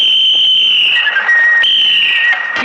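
Loud shrill whistles are blown, one long sustained piercing tone sliding slightly in pitch, with a second whistle overlapping and a brief sharp burst near the end.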